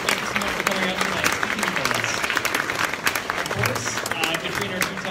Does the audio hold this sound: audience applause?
yes